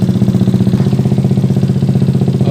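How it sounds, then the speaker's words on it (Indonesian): A Yamaha MX old kipas (fan-cooled) motorcycle sits idling close up, its engine putting out a steady, loud, rhythmic pulsing chug with no talking. "Motor ini saya akan biarkan menyala sampai motor ini benar-benar panas."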